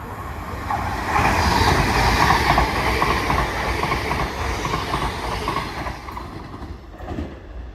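Class 802 TransPennine Express train bound for Newcastle passing through Earlestown station, a loud rumbling roar with rail clatter and faint wheel squeal that swells quickly, holds, then slowly fades.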